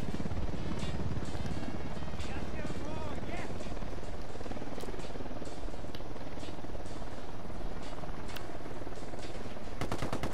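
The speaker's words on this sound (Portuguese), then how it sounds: "Abaixe-se pro chão, helicóptero." Helicopter in the video game Ghost Recon Wildlands whirring amid heavy gunfire, rapid bursts and shots layered over constant rotor noise, with a voice speaking over the action.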